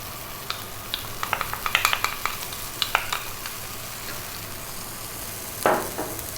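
Pork ribs being stirred with soy sauce, ketchup and oyster sauce in a pan, a run of quick scraping clinks over a soft steady sizzle, ending in a louder scrape.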